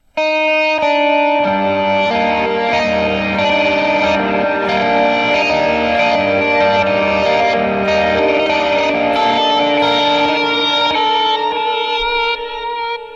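An electric guitar plays the bridge melody of Amazing Grace, drenched in distortion and echo, notes ringing and overlapping continuously at a loud, steady level.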